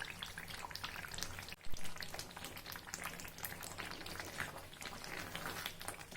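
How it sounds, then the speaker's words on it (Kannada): Tomato pickle bubbling and sizzling in hot boiling oil in a pan on a gas stove, a steady dense crackle throughout with a brief louder clatter near the middle. "ಕುದೀತಾ ಎಣ್ಣೆ ಈ ಥರ ಮೇಲೆ ಬರುತ್ತೆ."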